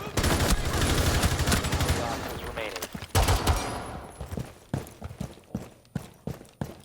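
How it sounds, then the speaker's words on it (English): Gunfire in Rainbow Six Siege: a dense burst of rapid automatic shots, then a brief lull and a string of separate sharp single shots spaced out toward the end, fairly close and loud. "Guy tried to shoot me through a shield."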